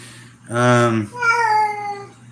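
Domestic cat meowing close by, two drawn-out harmonic meows in quick succession, the first louder and stronger, the second higher and thinner, over a low steady hum.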